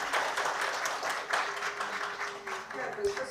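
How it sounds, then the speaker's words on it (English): A round of applause closes a talk at an anti-corruption programme event in Ukraine: moderate, steady clapping from the audience with a voice heard over it toward the end. "So please, let us thank them with a round of applause."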